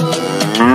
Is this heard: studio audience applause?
no